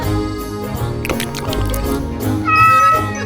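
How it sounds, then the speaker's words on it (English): A cat meows loudly and close at hand, a drawn-out tonal cry that rises near the end, heard over a low background hum. "Good cat, good cat."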